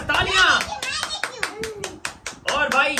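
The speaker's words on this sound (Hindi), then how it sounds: "जबरदस्त तालियां" Several hands clap in quick bursts, with children's voices and excited chatter mixed in throughout, at a children's mango-eating competition party.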